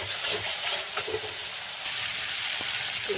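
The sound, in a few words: potatoes and ridge gourd added to hot pan and stirred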